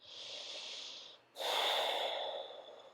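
A long, close airy breath at a yoga class, followed after a brief pause by a fuller, louder rush of breath on the half lift inhale, with no speech.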